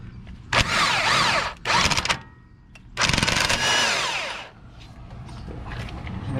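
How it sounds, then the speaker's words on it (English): An impact gun with a 32 mm socket breaks loose the wheel bearing nut on a 2006 Nissan Pathfinder 4.0 spindle knuckle, giving two loud, close rattling bursts of hammering separated by a short pause. "so I'm using an impact gun"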